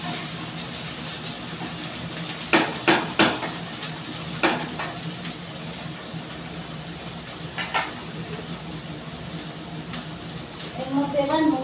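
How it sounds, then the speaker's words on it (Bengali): Eggplant with neem leaves frying in a pan, a low steady sizzle with a few distinct clinks and scrapes of a utensil against the pan, and a voice speaking quietly over part of it. "নিম পাতা বেগুনটা দিয়ে দিলাম, এবার এটাকে বেশ আমি একটু ঝরঝরে করে ভাজবো"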